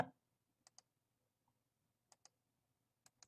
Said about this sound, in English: Right click